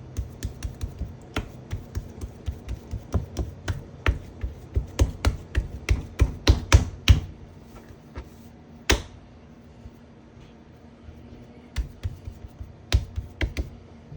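Raw burger meat being pressed and formed into a thick patty by hand on a cutting board, a rapid series of close, soft slaps and taps with brief pauses, then a few more pats near the end.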